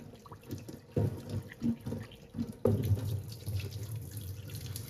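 Tap water runs steadily over raw chicken pieces being washed in a kitchen sink, with splashing and bursts of louder flow as the pieces are rinsed by hand, close and continuous.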